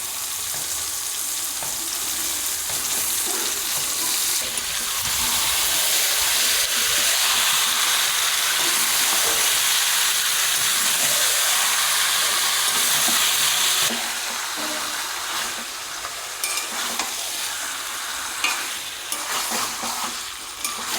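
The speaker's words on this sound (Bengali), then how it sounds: "এখন চিকেনটা দিয়ে দেবো।" Chicken sizzles and fries in a pan of cooked-down spice masala with chopped tomato, a steady loud hiss with occasional stirring scrapes, swelling louder midway before settling back with small crackles.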